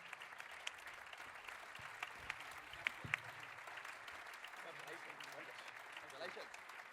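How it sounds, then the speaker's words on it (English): Audience at the Teddy Award ceremony applauding winners coming to the stage, a quiet, steady patter of clapping with a few sharper claps, while voices speak over it. "A huge round of applause, and very well deserved."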